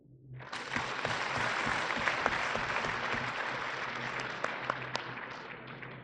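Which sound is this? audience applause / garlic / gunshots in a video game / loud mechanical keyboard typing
audience applause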